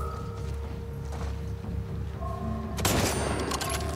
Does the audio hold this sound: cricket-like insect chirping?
no